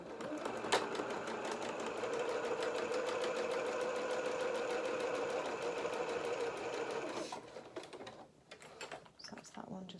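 A sewing machine runs a zigzag stitch at width 5 and length 1.5, a steady close mechanical hum with rapid needle ticking for several seconds, then stopping into handling noises.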